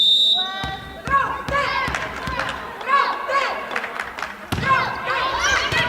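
A women's league volleyball match between Þróttur R and KA has several sharp hits and slaps of the ball in an echoing indoor gym, mixed with squeaking shoes, players' shouts and commentary over the top.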